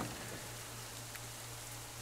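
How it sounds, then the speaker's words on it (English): Steady, even rain falls in the video game Shoppe Keep 2, a soft continuous hiss with faint patter and a low hum underneath, no voices. "It's already raining again, if you can believe it."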